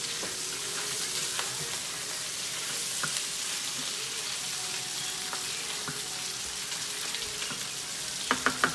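Onions and sausage frying in a pan, a steady close sizzle running throughout with faint clicks and a few sharp utensil taps near the end.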